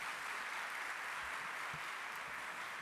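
Audience applause welcoming the Assumption College primary section marching band at the MAI Championship 2019, a steady, even wash of many hands clapping that sounds faint and somewhat distant, with no voices on top.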